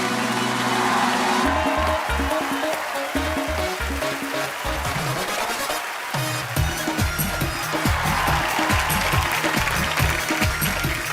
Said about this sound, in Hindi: तालियां और जोरदार होनी चाहिए।